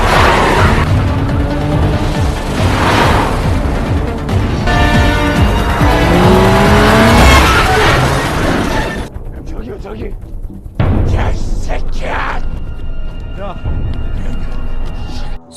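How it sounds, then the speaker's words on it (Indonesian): A car chase in a Korean film ends in a crash involving three cars: engines roar and tires squeal, then skidding and impact noises follow in a chaotic burst, all under a speaking voice. "si bos gangster yang pada akhirnya terlibat tabrakan dengan 3 mobil"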